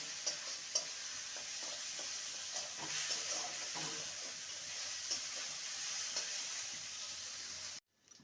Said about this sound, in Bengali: মুগ ডালটাকে ভালো করে ভেজে নেব মুগ ডালের মধ্যে যে জল জল ভাবটা আছে যতক্ষণ না শুকাচ্ছে ততক্ষণ ভালো করে নেড়ে নিতে হবে